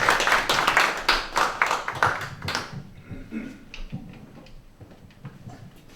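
Audience applause greets a Sony Korea product manager taking the stage at an RX1R Mark II launch event in Seoul, a burst of dense clapping that thins out and fades to scattered claps within a few seconds.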